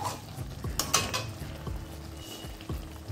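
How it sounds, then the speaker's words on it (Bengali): A utensil stirs an egg dish in a pan cooked without water, making close scraping and clinking strokes with several distinct knocks against the pan over a low steady background, no voices. "এবার আবার একটু নাড়িয়ে দেবো, না হলে লেগে যেতে পারে।"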